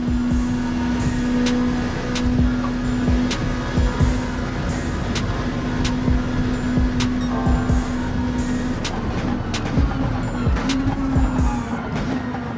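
Subaru Impreza Group B rally car racing on a drying track in Gran Turismo 7: a steady, close engine drone with small throttle and gear changes, continuous throughout with no talking.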